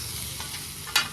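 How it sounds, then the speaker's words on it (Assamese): Chow mein fries in a hot pan at a fast-food stall, giving a steady broadband sizzle with a sharp hiss burst near the end, close and continuous, with no voices. "দাদাই চাওমিন ভাজি আছে"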